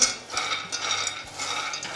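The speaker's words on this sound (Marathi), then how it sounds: "एका गरम करत ठेवलेल्या कढईमध्ये आपण आपले शेंगदाणे घालून घेऊयात" Peanuts being stirred in a hot kadhai over medium heat, a close rattling scrape of nuts and spatula against the metal pan in repeated strokes, no speech.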